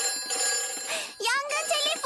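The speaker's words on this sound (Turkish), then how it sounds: "Yangın telefonu çalıyor." In a Peppa Pig cartoon, the fire station telephone rings with a bright, repeated electronic trill, mixed in with a voice speaking over it.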